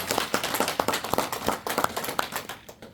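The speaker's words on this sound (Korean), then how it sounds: "여러분 박수 한번 치셔야 돼요" Audience clapping at a lecture on Admiral Yi Sun-sin's leadership, scattered individual claps at an irregular pace, moderately loud and fairly close, with no voice over them.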